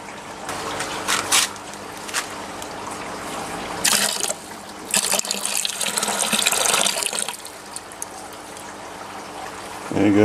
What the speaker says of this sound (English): I can just pour the pH up straight in there